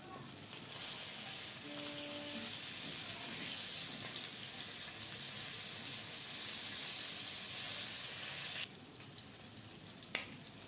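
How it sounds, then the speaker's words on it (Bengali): Rohu fish pieces coated in turmeric and salt frying in hot oil, a steady loud broadband sizzle that holds for several seconds before dropping off sharply near the end, with a brief clink. "এখন রুই মাছের পিসগুলো হলুদ লবণ মাখিয়ে লাল লাল করে ভেজে নিচ্ছি"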